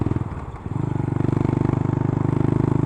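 An SR 400 motorcycle engine on a steep uphill road drops briefly while shifting into second gear, then picks up again with a steady, rapid, throbbing putter as it pulls in the higher gear.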